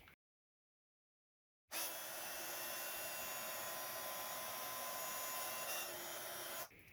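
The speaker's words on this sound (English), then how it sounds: "I'm going to heat emboss those in gold as well" A heat embossing tool blows hot air steadily to melt gold embossing powder on a Christmas card craft, a loud continuous whooshing roar that starts abruptly after a silent pause and runs alone for about five seconds.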